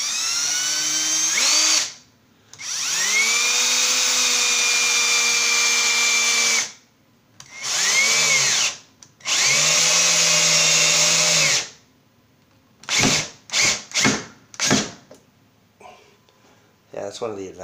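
A power drill drives Robertson screws into a shelf over a washer and dryer, several long whirring bursts rising and settling in pitch, then quick short stuttering pulses near the end, close and loud.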